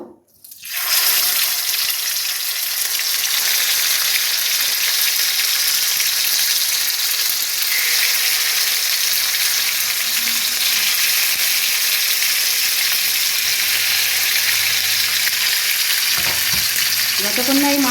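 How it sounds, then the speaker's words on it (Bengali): Rui fish slices sizzle loudly in hot oil, a strong continuous frying hiss that starts abruptly and holds steady, with a brief clink near the end and no talking. "তেলটা আমার গরম হয়ে গেছে এবার আমি মাছগুলো আস্তে আস্তে দেবো"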